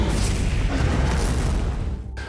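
Explosions rage through Warhammer 40,000: Space Marine 2 as a dense, loud wall of rumbling booms and bursts. The deep roar runs on without a break and then drops away briefly near the end.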